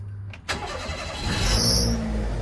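A Daihatsu Mira turbo engine cranks over with a sharp burst, then settles into a steady idle with a faint high squeal near the end.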